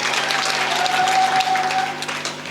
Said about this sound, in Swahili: Naomba tumpigie makofi.